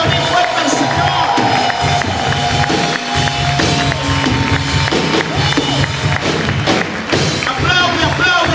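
A church congregation claps loudly and steadily over live praise music, with thumping beats and crowd cheering mixed in and voices rising throughout.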